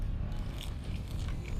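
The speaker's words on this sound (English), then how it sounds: "it's crunchy because he toasted the bread and it's really good" A close, crisp bite into a toasted bread sandwich stuffed with blood sausage, typical of Oujda, Morocco, giving a short run of soft crunching and chewing with no talk.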